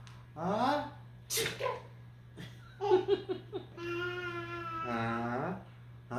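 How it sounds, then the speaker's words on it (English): A person sneezes loudly, with a sharp burst after a drawn-out breathy build-up, followed by a rising, laugh-like voiced sound. The setting is close and clear, with no other speech. "Achoo."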